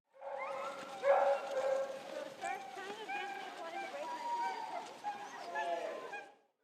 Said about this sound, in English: giving visitors a chance to meet a dog sledding team and take a short ride